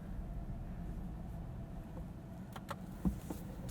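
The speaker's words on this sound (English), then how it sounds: "let's head out and see how this Bolt drives on the road" Cabin of a 2022 Chevrolet Bolt EV electric car on the road, a low steady rumble of tyres and road noise with faint light clicks and rattles, quiet and even with no speech.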